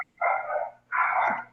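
Two drawn-out barks from dogs indoors, each about half a second long, loud and close, with faint background hum between them.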